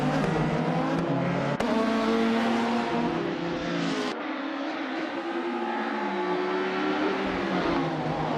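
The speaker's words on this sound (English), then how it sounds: "the race kicks off at Croft Retro, and leading the pack is the bot Defactor in a classic 1991 Vauxhall Cavalier" Video game race cars, including a 1991 Vauxhall Cavalier, launching at the start of a race at Croft, with loud revving engines climbing through gears, a sharp shift partway, and overlapping motor whine up close.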